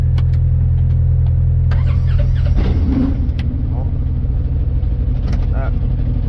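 A Ranger utility vehicle engine starts up in the snow and settles into a steady, loud idle close by, with a person talking over it.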